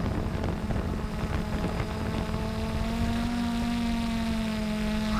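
Steady wind buffets an outdoor microphone beside a hovering Blade 350 QX3 quadcopter carrying a Hero 4 gimbal, a constant broadband rush with a faint tonal motor whine rising midway, no talking.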